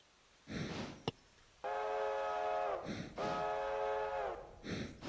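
A passenger train sounds two long, steady horn blasts, separated by a short gap, with a sharp click and bursts of rumbling rail noise around them.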